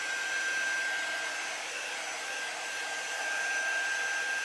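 A hair dryer blows steadily on freshly applied green paint, a constant close whooshing hum with a thin high whine, with no talking.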